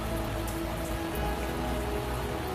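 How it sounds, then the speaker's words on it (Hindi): Steady rain falling on a surface in a Hindi cartoon story, a continuous even patter throughout with no voices. "आहा, ये क्या मुसीबत है, अब बारिश भी।"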